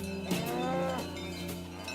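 A herd of Aubrac cattle moving to high summer pastures, with several cows lowing in long, overlapping moos, one rising clearly near the start, over a steady rural background with a hint of cowbells.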